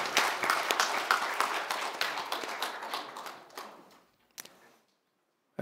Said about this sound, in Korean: 크게 한번 영광의 박수를 돌리겠습니다.